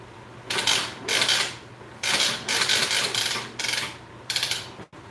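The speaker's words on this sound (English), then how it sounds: "That cranky sound you hear is me getting my airbrush hose out." An airbrush hose being pulled out makes several bursts of rough, cranky mechanical rasping and ratcheting, each lasting under a second, with brief pauses between, close by.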